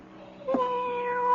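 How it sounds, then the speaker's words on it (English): A cat gives a single drawn-out meow over a steady hum inside a room, in a radio mystery drama. "Cat? Gone off to howl at somebody else. Well, good. All that meowing."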